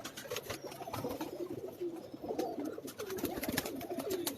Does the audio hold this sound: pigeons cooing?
yes